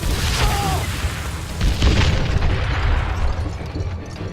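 Dynamite explosions in the video game Call of Juarez: Gunslinger: a dense, continuous barrage of booming blasts and rumbling debris that stays loud throughout, with a brief whistle early on.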